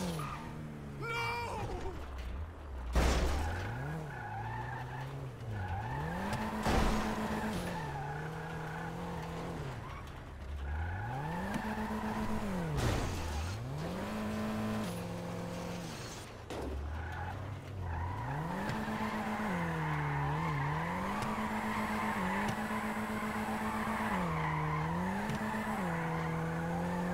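A car drives hard, its engine revving up and down repeatedly while tires squeal and skid in long wavering whines, loud and close throughout.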